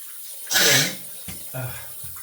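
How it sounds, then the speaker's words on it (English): A brief burst of tap water splashes as a cartridge razor head is rinsed under it during a head shave, followed by a few softer trickles and small clinks. "We're gonna rinse the head here."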